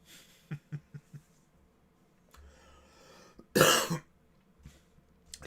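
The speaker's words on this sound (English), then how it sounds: "Excuse the cough." A single harsh cough bursts out close to the mic after a few soft clicks and quiet rustling in an otherwise calm room, with no speech.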